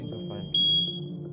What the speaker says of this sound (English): Was that fire alarm in real life or in the game?